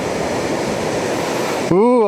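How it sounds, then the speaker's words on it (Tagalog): A strong river current rushes with a steady, broad roar close by, broken off near the end as a voice cuts in. "Lakas ng agos oh"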